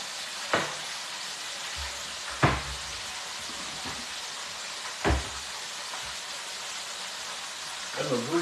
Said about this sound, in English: There's a grease pop all over the place.